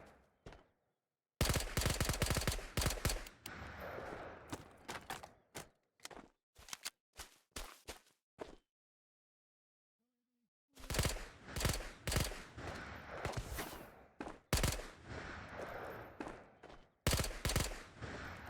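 Bursts of automatic gunfire in the Ghosts of Tabor shooter game, loud rapid volleys broken by short pauses and a stretch of near silence, then more sustained firing near the end.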